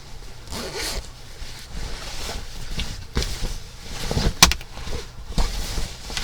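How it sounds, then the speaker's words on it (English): A zipper on a sewn jacket's inside pocket is pulled open and closed several times, quick rasping zips in bursts with soft handling rustle between, close up and alone. "I added some zippered pockets on the inside"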